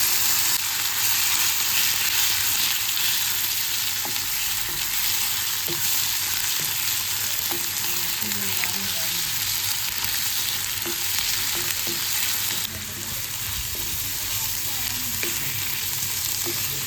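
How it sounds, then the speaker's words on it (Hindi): Chicken pieces fry in hot oil for a pocket stuffing, giving a steady, close sizzle with occasional stirring clicks, continuous and even throughout. "अब हम लोग इसका स्टफिंग बनाएंगे, तो इसी तेल में मैं डाल देंगे चिकन"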